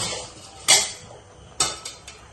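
A lid is set on a cooking pot of biryani, making a bright metallic clank followed by a few lighter rattling clinks as it settles, loud and close in an otherwise quiet kitchen.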